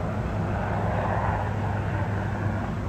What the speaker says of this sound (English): That's probably the helicopter we saw earlier today.